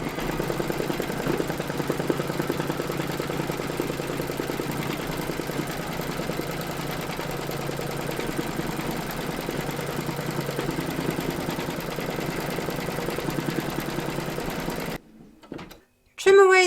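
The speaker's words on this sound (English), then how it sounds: "Pop your hoop into your machine and stitch round number 3 to secure them." An embroidery machine stitches a round to secure appliqué fabric pieces for a large Statue of Liberty design, running as a steady, continuous mechanical whir. It stops abruptly near the end, followed by a brief clunk.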